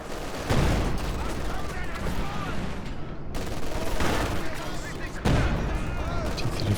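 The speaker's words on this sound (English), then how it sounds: "This barrage clearing off the centre, combining with the heavy mortar." Sustained artillery barrage and heavy mortar fire in a World War II strategy game featuring Panzer IV and T-34 tanks, a dense rumbling stream of explosions and gunfire with heavier booms near the start and end, under a caster's commentary.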